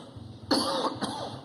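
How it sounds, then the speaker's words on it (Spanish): Two short, harsh coughs close to the mic, one right after the other, over a low background hum. "Yo tengo aquí un poquito de tos."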